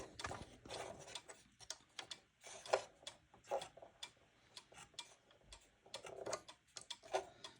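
A cuckoo clock ticks quietly in a room, its soft, even ticks repeating steadily with faint clicks and small knocks between them, and no talking.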